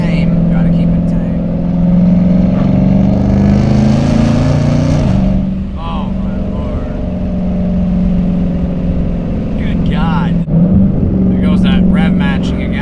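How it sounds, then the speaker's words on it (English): Dodge Challenger Redeye engine revving and rev matching while driving, a loud throaty drone that climbs, dips and rises again with a sharp blip near the end, with a person talking over it. "Rev matching again."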